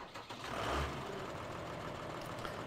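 Small tractor engine idling in the video game Farming Simulator 15, a steady low rumble with a brief louder swell near the start, then an even, continuous drone.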